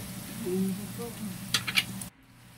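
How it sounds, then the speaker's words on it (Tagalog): Minced chicken frying in a pan for chicken pastel, sizzling steadily while being stirred, with a few sharp utensil clinks against the pan before the sound cuts off; a voice speaks briefly underneath. "nilagay na natin yung chicken na dinurog-turog natin na maliliit. Ayan. Tapos haluhaluin po natin yan"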